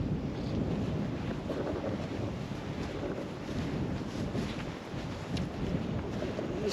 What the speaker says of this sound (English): It's quite a windy night tonight